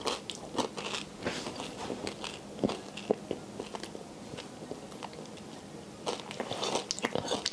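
Close, crisp bites and crunchy chewing of a chocolate protein bar, with irregular snaps and crackles and louder crunch bursts near the start and end, alone without talk.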